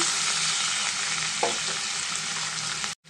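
Food sizzles in a hot pan with a dense, even frying hiss and an occasional soft stirring scrape, close by and with no talking, before it cuts off abruptly at the end.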